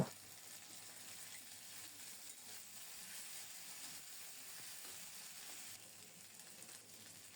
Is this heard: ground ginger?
yes